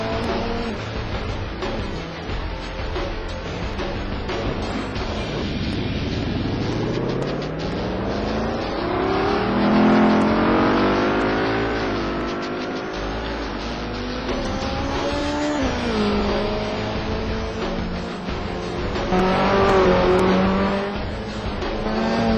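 GRC touring cars lapping Snetterton in the rFactor racing game, engines howling loud and close through repeated rising gear-change sweeps and downshifts, with tire squeal under continuous racing noise.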